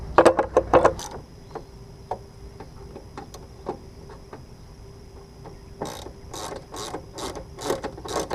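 A ratchet tightens bolts on an S&B cold air intake on a 2016 Duramax, with sparse single clicks first and then quick, close bursts of ratcheting in a steady rhythm.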